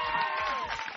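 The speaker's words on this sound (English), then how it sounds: "Warm round of applause for Anthony Napolitan." Brief burst of warm applause from a studio audience welcoming a guest onto a Portland talk show, steady clapping with a bit of crowd noise throughout.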